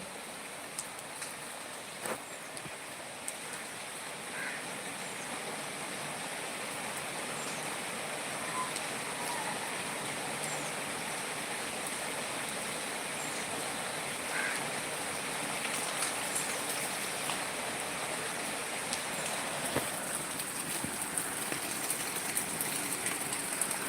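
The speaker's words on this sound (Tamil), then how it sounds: "நல்ல மழை" Heavy rain pours steadily, a dense continuous wash of falling water that stays loud and unbroken throughout, with no voices over it.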